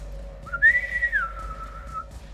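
A voice imitates a little whistle: a single clear whistled note that rises, holds and then slides down, lasting about a second and a half, close and alone.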